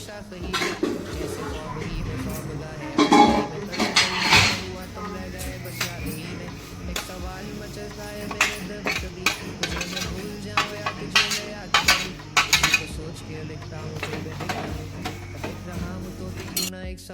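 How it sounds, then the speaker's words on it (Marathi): Dried tiny shrimp (kolim) dry-roast in a hot kadai, a spatula scraping and clinking against the metal in an irregular, busy rhythm, close and fairly loud, with a voice talking at times. "कढई गरम केलेली आहे। सर्वप्रथम मी इथे कोलिम भाजून घेत आहे।"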